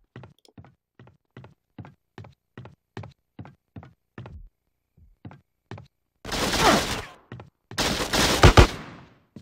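Enemy gunfire in GTA San Andreas rings out as a rapid series of sharp, evenly spaced single shots, followed by two louder, longer bursts of heavy fire near the end.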